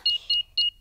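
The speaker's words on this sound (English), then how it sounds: "Switch the alarm back on." Three short electronic beeps from a house alarm being switched on, evenly spaced and fairly loud, with a faint low rumble underneath.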